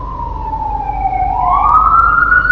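A police siren wails outside at moderate distance, its pitch sliding down and then rising again in one continuous sweep over a low traffic rumble, with no voices.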